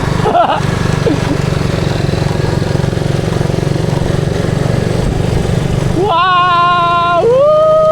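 A motorcycle rides over a rough, potholed road past an old abandoned site, its engine droning loud and steady throughout, with a brief tonal whine rising near the end.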